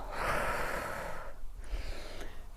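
Close, deep breath drawn in during a lymphatic drainage exercise, a strong airy inhale lasting over a second, followed by quieter breathing and faint movement.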